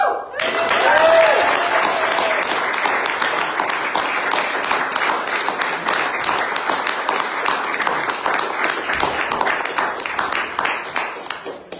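Sustained audience applause at a Make Polluters Pay climate campaign kick-off, dense clapping that swells loudly at first then holds steady for the whole stretch, with faint voices mixed in.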